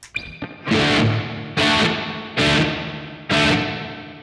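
Electric guitar through a Yamaha THR amp with a drenched, springy spring reverb, four strummed chords at steady intervals, each ringing out with a splashy wet tail.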